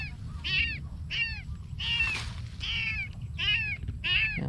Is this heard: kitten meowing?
yes